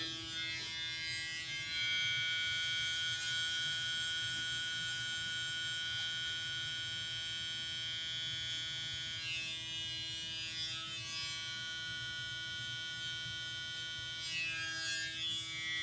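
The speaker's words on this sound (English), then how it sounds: "Ain't no guesswork with this trimmer." An electric hair trimmer gives a faint, steady buzz close by, a constant low electric drone that holds through the whole stretch with slight variations and no talking.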